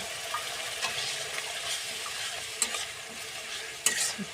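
Masala frying in a pan hisses and sizzles as water is added bit by bit, with soft stirring scrapes and a few sharper pops over a steady close-up fizz.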